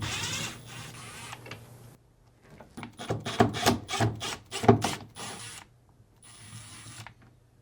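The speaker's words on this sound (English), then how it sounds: "Next, remove the two screws holding the drain pump to the tub." Screws being backed out of a drain pump on a Fisher & Paykel washing machine tub (model WL42T26DW1), close rasping, clicking tool sounds in a quick burst between quieter pauses, with a high electronic whine at times.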